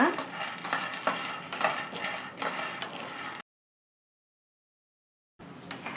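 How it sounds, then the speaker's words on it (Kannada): Black peanuts roasting in a pan over a low flame, stirred with a metal spoon: repeated scraping and clinking strokes with a light rattle of nuts, close and fairly clear, then a sudden gap of silence before the stirring resumes. "ಇವಾಗ ಒಂದು ಕಪ್ಪು ಕಡಲೆ ಬೀಜ ಹಾಕೊತಾ ಇದ್ದೀನಿ ಸಣ್ಣ ಉರಿಯಲ್ಲಿ ಚೆನ್ನಾಗಿ ಉಟ್ಕೊಳ್ಳೋಣ"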